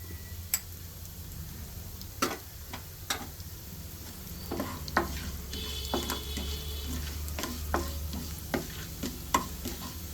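Chana dal, urad dal and fennel seeds frying in oil, a quiet bed of sizzling with scattered sharp pops and crackles spread irregularly throughout.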